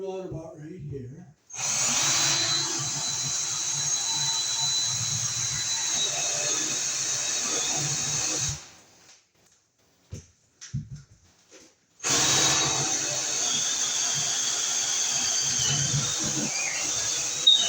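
Close, loud drilling of a hole for wiring runs steadily for several seconds, cuts out briefly with a few small knocks, then starts up again and keeps going.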